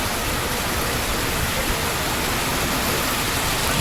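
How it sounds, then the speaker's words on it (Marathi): Heavy rain pouring near a waterfall at a hill temple, a dense, loud, continuous hiss with no pauses and no voices. "आता इथं पाऊस आला आहे भरपूर मोठा."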